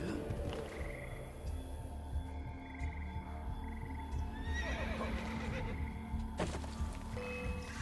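A horse in a video game whinnies with a rising, shrill call over a steady low background hum, followed by softer snorts and faint thuds.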